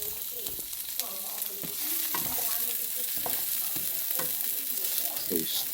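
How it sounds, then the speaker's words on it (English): Rinsed lentils frying with onions and garlic in a pan, stirred with repeated scraping strokes over a constant close sizzle and no voice. "so stir, baby. Stir it up."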